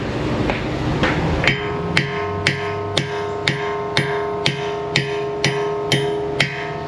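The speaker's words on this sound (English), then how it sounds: "I'm hitting the stud, and I'm choked up on the hammer" Hammer blows striking a wheel stud to drive it out of a car hub, about ten sharp metallic hits in a steady rhythm after some quieter shop noise, loud and close with ringing overtones.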